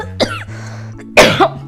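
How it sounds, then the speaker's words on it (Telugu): A person with a lingering cold gives a couple of short, close, harsh coughs, with a brief pause between them. "నాకు ఇంకా దగ్గు కూడా తగ్గలేదే."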